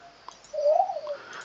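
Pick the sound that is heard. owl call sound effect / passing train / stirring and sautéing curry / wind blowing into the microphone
owl call sound effect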